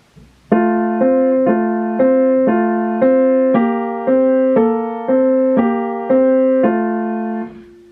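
A simple piano melody played with both hands together, steady paired notes in an even rhythm of about a dozen strokes, clear and close with nothing else present.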